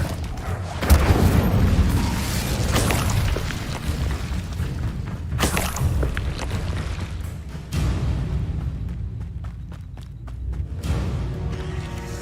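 A fire spell cast in Hogwarts Legacy: booming, rumbling blasts and crackling bursts that repeat across a dense, loud game soundscape, with no voice over them.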